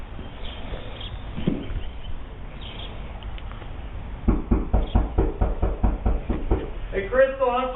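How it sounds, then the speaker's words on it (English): A police officer raps on a residential door in a run of firm, evenly spaced knocks that follow a stretch of quieter background sound, with a voice starting up at the end. "I'm going to try and knock and make contact right here."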